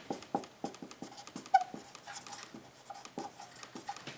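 A math integral notation is handwritten: quiet, quick scratchy strokes in an irregular rhythm, close by and soft, with no speech.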